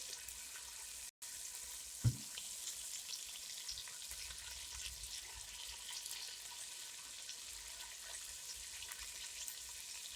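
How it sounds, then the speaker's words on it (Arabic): Chicken gizzards sauté in a pan with a quiet, steady sizzle and hiss that runs throughout, broken once by a brief soft knock. "بعد لما شوحنا القوانص بتاعتنا كويس كده"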